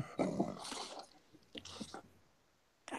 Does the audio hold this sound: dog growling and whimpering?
yes